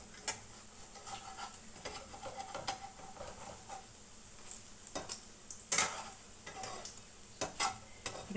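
Fulki fritters fry in oil with a soft, continuous sizzle punctuated by sharp clinks and scrapes of a utensil against the pan at irregular intervals.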